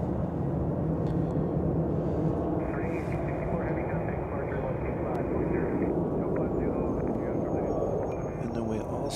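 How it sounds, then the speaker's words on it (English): An American Airlines 787 Dreamliner taxiing at Chicago O'Hare, a steady broad jet-engine rumble and hiss from a distance, constant throughout with a faint whine layered in partway. "Looks like we have another 787 Dreamliner coming around, headed to London."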